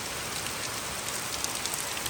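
Steady rain pours onto an open courtyard where cows are kept, a dense, even hiss of drops with no pauses.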